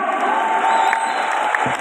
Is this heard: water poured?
no